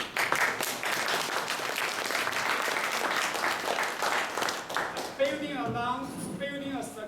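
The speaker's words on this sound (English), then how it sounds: "I want all of you to give our 3 founders, startup entrepreneurs," An audience gives a sustained round of applause for three startup founders at a property-technology founders' panel; dense crowd clapping fills the room, then fades as a voice begins speaking over the tail.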